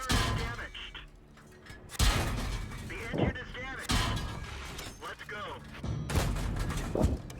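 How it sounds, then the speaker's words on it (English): Tank cannon shots and explosions from a World of Tanks battle on the Malinovka map, with a Matilda firing, thump repeatedly every second or two amid engine rumble and game effects, with someone talking throughout. "the Matilda is firing APCR"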